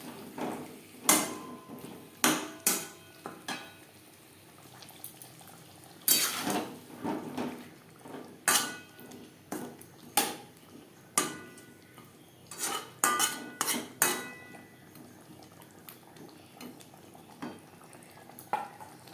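A spoon scrapes and knocks against a pan as potatoes are stirred into fried masala, giving irregular clinks and scrapes at a moderate distance over a quiet kitchen background.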